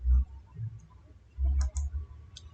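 Computer mouse clicked on a Windows settings dialog; a couple of sharp, close, light clicks over low background rumble, with no talk.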